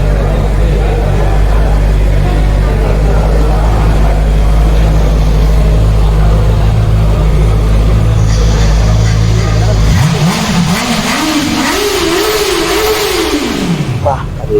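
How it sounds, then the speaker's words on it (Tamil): A Honda CBR 650 motorcycle idles with a loud, deep exhaust note up close, then revs up sharply and falls back in a rising and dropping sweep, while someone talks over it. "சவுண்டு சைலன்சர் சின்னதான செம்ம சவுண்டு பாருங்க"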